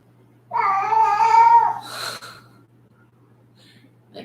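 A playful house cat lets out one drawn-out, close meow, followed by a short snorting breath, then near silence.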